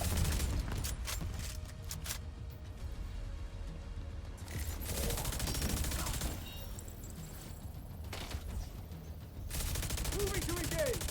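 Sustained gunfire in a firefight in The Division 2, with dense rattling bursts running through most of the stretch at steady loudness, voices heard beneath the shooting.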